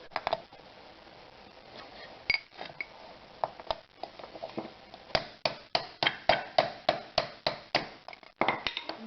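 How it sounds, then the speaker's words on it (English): Bearings are punched out of a vacuum pump's inner scroll using a socket and extension, giving a long series of sharp metallic hammer taps, irregular at first, then a fast steady rhythm of close, loud blows. "I can use a socket and an extension to punch the bearings out"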